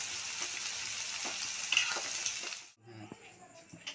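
Ginger and garlic paste frying in hot oil, a bright steady sizzle with light stirring clicks that suddenly drops away, leaving softer crackles and faint clinks of a spoon against the pan.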